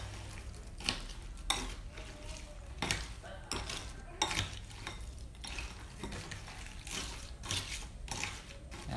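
Tomatoes and sugar stirred in a bowl with a utensil, giving repeated clinks and scraping taps in an uneven rhythm, close and moderately loud, with no talking.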